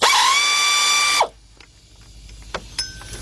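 A ratchet works loose a bolt on the 3.7 engine of a 2003 Jeep Liberty Sport, giving a close, loud, rapid buzzing run of clicks for about a second, then near silence with a few faint ticks and taps.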